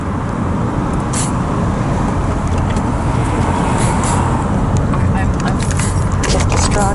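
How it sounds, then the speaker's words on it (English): Road traffic rolls past behind the listener, a loud continuous roar with vehicles swelling by, while people talk over it. "traffic behind you too"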